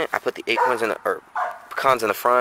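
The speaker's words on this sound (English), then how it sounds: "That's my dog." A dog barks briefly outdoors during squirrel trapping, its yips mixed in with someone talking close by.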